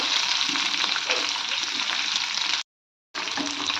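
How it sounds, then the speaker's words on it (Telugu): Garlic and curry leaves fry in hot oil with a dense, bright crackling sizzle that holds steady. The sound cuts out briefly, then the sizzling resumes. "అలాగే ఎల్లుల్లిపాయలు వేసుకుంటున్నాను. కరివేపాకు కూడా వేస్తున్నామండి."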